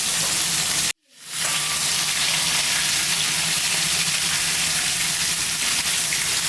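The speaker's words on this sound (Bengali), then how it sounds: "ভেটকি মাছটা একটু ভালো করে ভাজবো, কড়া ভাজা দেবো" Bhetki fish fries crisp in hot oil, a close, steady sizzle and hiss that cuts out for a split second early on, then carries on evenly.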